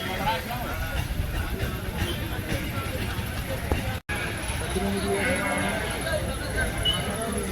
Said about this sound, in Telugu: ఇవి వచ్చేసి గొర్రె పిల్లలు అనమాట